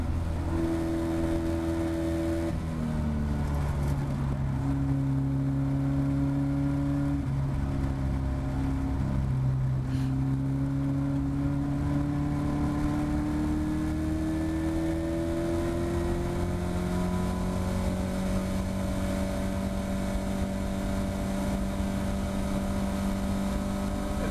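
Caterham Academy race car at Cadwell Park circuit, its engine droning loud and close throughout with steady pitch sweeps as it accelerates, lifts and shifts up through the gears on a lap.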